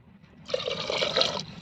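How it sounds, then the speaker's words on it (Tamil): Two cups of water poured into a cooking pot for bottle gourd and moth bean rice, a steady splashing stream lasting about a second, close and moderately loud. "தண்ணி 2 கப்பு ஊற்றிக்கலாம்."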